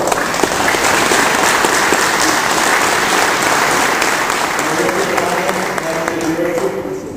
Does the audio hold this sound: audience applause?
yes